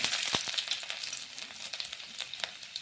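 Ginger and cumin seeds fry in oil in a pan, a close, bright, steady sizzle with sharp crackles and pops scattered throughout.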